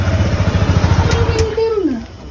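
A motorcycle engine idles close by with a steady low throbbing pulse, then revs and falls away in a short rising and falling whine, voices faintly underneath.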